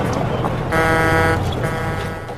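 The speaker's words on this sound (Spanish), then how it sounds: "Ahora el ruido de tráfico para compararlo." Recorded traffic noise played back for comparison in a listening test, a dense steady roar with a loud horn-like blast in the middle, heard alone without talk.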